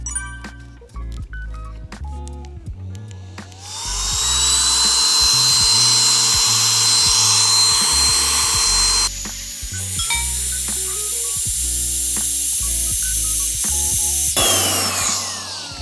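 A Claymore Air electric pump deflates a self-inflating camping mat, a loud high-pitched whirring motor hum that starts up and runs steadily, shifting pitch and briefly cutting out, close up with no talk.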